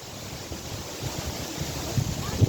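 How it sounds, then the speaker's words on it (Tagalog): Wind blowing through a park garden in Berlin, a rumbling gusty wash of microphone buffeting that swells toward the end, no talking. "Hangin."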